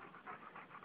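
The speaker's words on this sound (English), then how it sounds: "I hear you panting." A dog pants outdoors after days of rain, with quick rhythmic breaths that are faint and close, heard alone.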